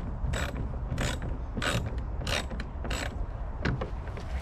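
Tools clicking and ratcheting while a kayak motor transom mount is bolted down, a series of sharp close mechanical clicks and turns in an uneven rhythm, with no talking.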